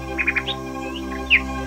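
A few short bird chirps in a quick run, then a brighter single call, fairly close and clear over a soft steady background hum.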